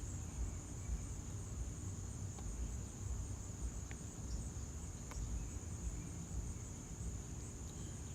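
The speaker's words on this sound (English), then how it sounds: "Can you hear like all the birds?" Crickets chirp in a constant high-pitched drone outdoors, with a faint low rumble beneath and a couple of soft distant sounds.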